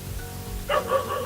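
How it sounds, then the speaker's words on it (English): A dog barks outdoors at night on a cycling route from Singapore, a short burst of two or three yaps at moderate distance over quiet background hum. "I have this dog barking at us all night."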